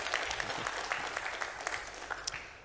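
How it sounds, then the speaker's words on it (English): Audience applause at a defence and security forum for Sweden's defence minister, scattered claps over a crowd wash, fairly distant and fading across under three seconds. "If you can give him a round of applause"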